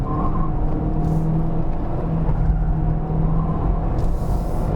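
A 2019 Volkswagen Beetle 1.2 TSI with an automatic gearbox climbs a winding hill road, its engine droning steadily under load with a low cabin rumble and faint gear-shift changes in pitch.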